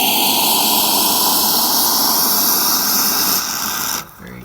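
Loud, steady hissing rush from an Expobar espresso machine letting out hot water, continuing for several seconds before cutting off abruptly.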